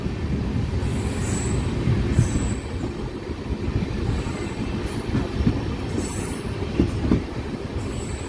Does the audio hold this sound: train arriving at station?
yes